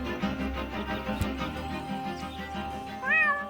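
A cat meows in the adventure video game Deponia: one short, rising meow near the end, clear over a quiet musical background.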